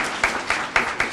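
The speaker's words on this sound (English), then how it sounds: "can we give Secretary McDonough another round of applause?" A seated audience at a corrections department kitchen event gives a round of applause, with dense clapping and a few stronger peaks over about a second.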